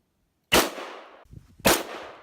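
A single loud, close Remington rifle shot fired at a target 25 yards downrange while sighting in, a sharp crack with a decaying tail, followed by a second sharp report about a second later.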